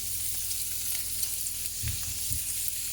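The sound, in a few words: cauliflower steaks and shallots sautéing in a pan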